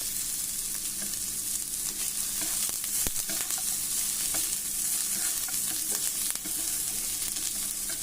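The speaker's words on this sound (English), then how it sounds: "So I'm going to heat this oil and just saute this and then grind it to a fine paste." Chopped onion with green cardamom and cinnamon sautéing in hot oil: a continuous bright sizzle with frequent stirring scrapes and spoon knocks, fairly close, about eight seconds with no talking.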